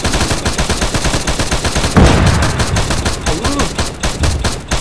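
Dense, loud gunfire in ARMA 3 during an armored-unit hostage-rescue battle, rapid automatic bursts with a heavier blast midway, continuous and close.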